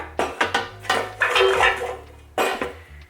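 An air fryer basket with avocado oil sprayed on it is shaken by hand, making a series of sharp metallic rattles and clanks in quick bursts, close and alone.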